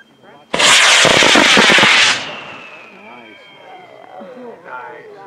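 High power rocket on an Aerotech I-327 motor roaring off the pad, a loud crackling blast lasting about a second and a half, then a fading rumble as it climbs while people talk and cheer nearby.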